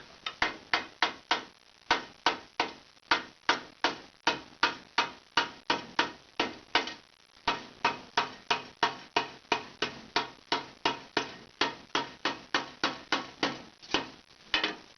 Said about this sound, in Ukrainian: Молотком оббиваємо обмазку